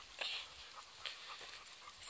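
A dog pants quietly in quick, airy breaths, with a few soft higher yips or whines mixed in, fairly faint against a low background hiss.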